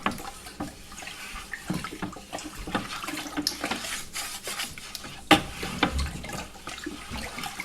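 Water sloshes and scrapes as pickling lime is stirred into water in a container, with irregular swishes and a sharp knock partway through.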